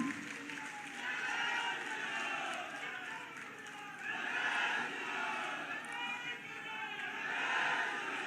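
Audience applause at a Hindi unveiling ceremony for a statue of Veerangana Uda Devi, a sustained, fairly distant crowd wash with swelling cheers rising and falling over several seconds, with voices mixed in.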